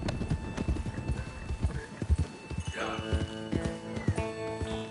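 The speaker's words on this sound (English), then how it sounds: "Come on, horses." Hooves clip-clop in a brisk trotting rhythm as several horses move along in the video game Red Dead Redemption 2, with a horse's whinny partway through.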